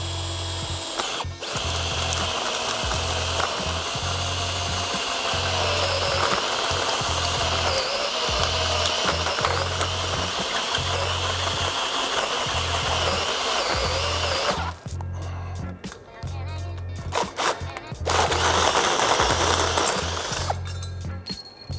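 A power drill bores a hole in an aluminum intercooler pipe flange, running in a loud, close, continuous whirr for most of the time, then in a few short stop-start bursts.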